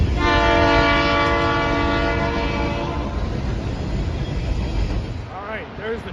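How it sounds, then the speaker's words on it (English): A long freight train passing near a freeway at sunrise sounds a loud sustained horn chord, then rumbles and clatters by steadily as the horn cuts off. "I think he's gonna toot his horn here."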